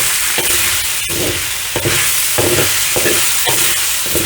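Marinated pork sizzling loudly as it is stir-fried in a hot pan, with repeated scraping and stirring strokes and a steady frying hiss underneath.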